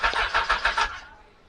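Motorcycle engine cranking on a weak battery, about five quick labored turns of the starter in a rhythmic churn, close by, then dying away without catching.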